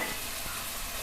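Garlic fries in a pan with a steady, soft hiss, faint and continuous over a brief moment with no voices.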